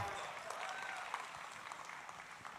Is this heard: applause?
yes